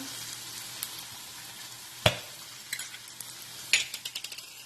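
Ragu tomato, garlic and onion sauce sizzles softly in a pan for lasagna, a steady low frying hiss broken by a few sharp spoon knocks and a quick run of stirring taps.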